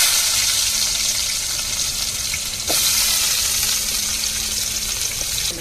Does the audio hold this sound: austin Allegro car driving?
no